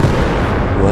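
Tank cannon fire in the video game Battlefield 4 sounds as a loud, dense blast with a heavy low rumble that fills the whole brief moment, with no talking.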